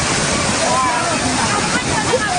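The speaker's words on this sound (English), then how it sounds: "this water reserve belonging to the Lusaka Water Supply and Sanitation Company has been overflowing, leaving the area extremely flooded" Water from an overflowing reservoir in Lusaka's Libala Township rushes and sloshes continuously, a steady, loud torrent of flooding water that fills the whole moment.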